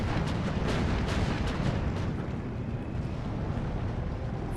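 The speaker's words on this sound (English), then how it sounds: "Katyusha's firing at this single unit again." Katyusha rocket artillery firing in the Steel Division 2 war game, heard as a dense, continuous low rumble and roar with rapid overlapping launch bursts throughout, loud and steady with no talk.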